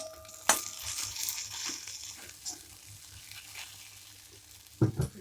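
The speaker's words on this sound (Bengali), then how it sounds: "আজকে ঢ্যাঁড়স ভাজা হবে।" Okra frying in a pan gives a continuous crackling sizzle with a sharp crunchy clatter near the start and a couple of louder knocks at the end.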